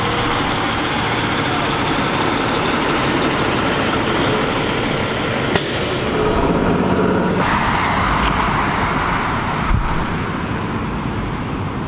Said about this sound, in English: Record the truck.